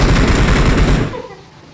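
Rapid automatic gunfire bursts from the BGMI mobile battle-royale game rattle loudly for about a second, then cut off, leaving faint background noise.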